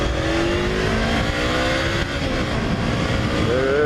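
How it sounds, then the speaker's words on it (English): A Honda CB500F motorcycle pulls hard from a rolling stop, its engine note climbing steadily in a loud, continuous rising whine with wind rush close by. "I'll give you a good hard roll on, and you can see acceleration"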